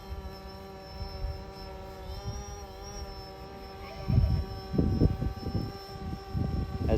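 A light training aircraft, probably a helicopter, flying a steady left-hand circuit at constant speed, a sustained engine drone with many steady harmonic tones. Louder rumbling and wind buffeting join in during the second half.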